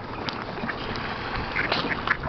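Ducks quack in scattered short calls over a continuous hiss of outdoor background noise, fairly faint and somewhat distant.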